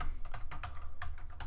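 Computer keyboard typing: a quick, steady run of light key clicks, close and clear over a low background hum, with no voice.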